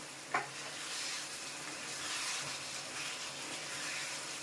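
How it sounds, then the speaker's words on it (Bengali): Chicken pieces with chopped tomatoes sauté in a pan, giving a continuous, even sizzling hiss after a single sharp tap of a utensil at the start. "যতক্ষণ জল না মরে যাবে বন্ধু, ততক্ষণ কষাতে থাকবো।"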